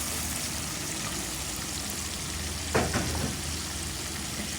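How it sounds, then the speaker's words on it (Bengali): Ground turmeric, chili, coriander and cumin sautéing in a pan with whole green chilies, a soft even sizzle, fairly faint, with a brief clatter of stirring near the middle and no talking. "একসাথে কষিয়ে নেব।"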